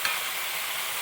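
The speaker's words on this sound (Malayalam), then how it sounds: "നന്നായിട്ടൊന്ന് ഇളക്കി കൊടുക്കും." Onion, chopped tomato and tender papaya sizzle in a pan for a brief moment, a steady close hiss with no voices.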